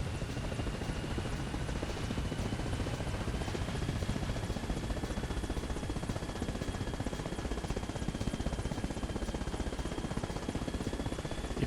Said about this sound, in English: You can certainly feel that you're flying a bigger helicopter.